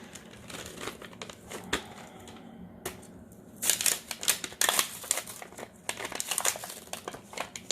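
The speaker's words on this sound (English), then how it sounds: "So just give it a nice little sand." Sandpaper rubs by hand across the plastic base of a DIY snow globe, giving irregular scratchy crinkling strokes up close that grow louder and busier toward the end.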